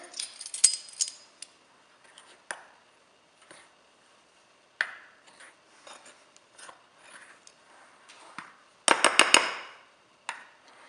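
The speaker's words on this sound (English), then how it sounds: "I'm gonna mix all this together" Flour, a pinch of salt and other ingredients for a no-yeast Easter bread are mixed together in a bowl. Soft intermittent scrapes and clicks are followed by a louder rustling burst near the end, with no talking.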